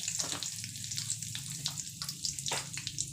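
Mustard seeds hit hot oil in a home kitchen pan, setting off a loud, steady sizzle with rapid crackling pops spread across the whole moment.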